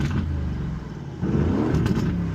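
A warm sports car engine in track mode rumbles deeply, then surges louder as it revs, close and steady, with no talking.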